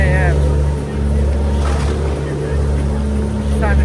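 A tour boat motor drones loudly and steadily near the listener on the water at El Nido, with splashing and wind rushing over it throughout.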